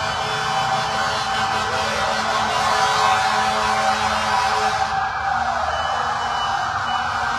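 Fire truck sirens wailing steadily and loudly at a house fire in Tondo, Manila, with a continuous wailing tone and traffic noise throughout, no talking.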